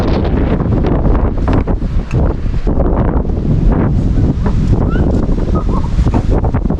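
Strong wind buffets the microphone on the deck of a large wooden pleasure boat at Nakai, Khammouane, roaring steadily and loudly throughout with water noise beneath and no clear talk.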